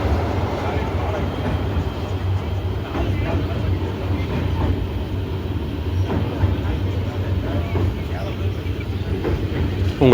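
West Coast Express passenger train travelling between Erode and Namakkal districts en route to Chennai, a steady close rumble and rattle of wheels and carriages with soft clicks, continuous and even throughout.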